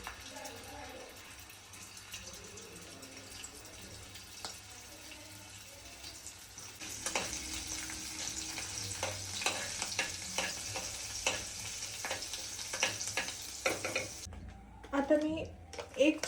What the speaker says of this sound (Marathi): आणि तेलामध्ये हे जे आपण वाटून घेतलं होतं ते टाकणार.